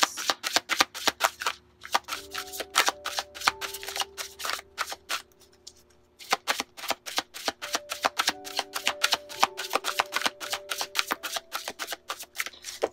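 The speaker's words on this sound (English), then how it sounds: "So let's get some oracle cards from the Ascended Masters." Oracle cards being shuffled, a long run of rapid, crisp card riffles and flicks close up with a short pause partway through, loud and with no voice.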